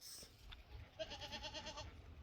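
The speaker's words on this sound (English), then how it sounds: "I hear ya. I don't see ya. There you are, goats." Goats on a farm bleating, a wavering, nasal bleat pulsing rapidly for about a second, preceded by quieter scattered calls, fairly faint and unaccompanied by talk.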